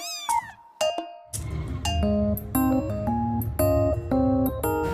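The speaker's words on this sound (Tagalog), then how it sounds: "As you know, meron kaming 4 kittens." Several kittens meow repeatedly at close range, loud and high, in overlapping calls with short pauses between, and no talking.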